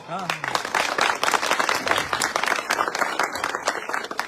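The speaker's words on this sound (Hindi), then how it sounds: "आपकी तालियां कुछ कमजोर हैं" Applause from a crowd, steady and fairly loud, with a voice speaking over it at the start.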